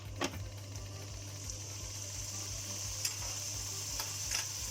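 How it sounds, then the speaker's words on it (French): Shrimp sautéing in a pan for a Moroccan-style dish, a quiet steady sizzle with soft scraping and stirring clicks over a low hum. "On fait revenir les crevettes"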